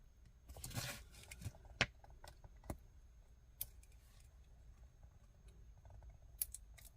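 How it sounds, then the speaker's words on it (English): Scissors cut a circle out of paper with a run of quiet, close snips and crisp clicks, irregularly spaced over faint room noise and no talking. "We're just going to cut within that circle."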